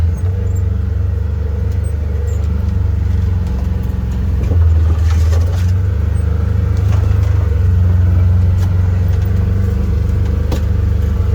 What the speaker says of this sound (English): nice and slow and just let the tires work for themselves. Just crawls right through.